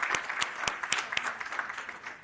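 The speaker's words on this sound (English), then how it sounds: "we'd like to give you a round of applause" An audience at a government and business media briefing claps in a modest round, with sharp individual hand claps standing out over a softer spread of applause that fades toward the end.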